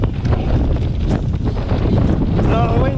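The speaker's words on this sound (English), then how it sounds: "Oh, the wind's at us again." Wind rushing over the microphone while riding a Trek Rail 9.8 electric mountain bike outdoors, a continuous close buffeting roar.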